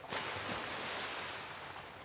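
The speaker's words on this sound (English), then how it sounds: "What is that weird sound of water?" Brief whooshing rush of water, like surf or a wave washing in, rising sharply at the start then settling into a steady broad hiss that slowly fades, with no speech.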